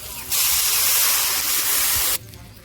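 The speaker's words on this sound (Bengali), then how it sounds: "জল দিয়ে দিচ্ছি জল দিয়ে দিচ্ছি" Water poured into a hot fish curry in a pan, a sudden loud hiss and steamy sizzle that holds for about two seconds then cuts off.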